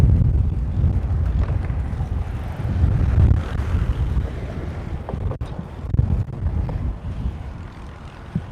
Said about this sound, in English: that's why it's pretty windy here